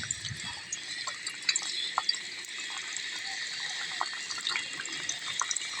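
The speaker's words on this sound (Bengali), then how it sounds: "এবার আমি গরম তেলে ছেড়ে, গরম হয়ে গেছে, এবার আমি একটা করে করে বেগুন ছেড়ে দেবো।" Chicken-stuffed eggplants are lowered one by one into hot oil and sizzle with a continuous bright hiss, with small crackles and pops on top. The sizzle stays fairly even for several seconds.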